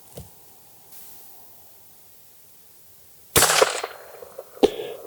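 A single close, sharp gunshot from an 1885 Winchester rifle at a range, with brief rustling and a small knock afterward; a fainter pop sounds near the start.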